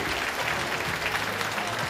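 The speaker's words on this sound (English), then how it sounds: "our applause for our cameraman, Mr. Liao" Audience applause at a formal opening ceremony of an international judges' association anniversary event in Taiwan, honoring the cameraman after a group photo; steady, moderately loud clapping fills the whole short stretch with no talk.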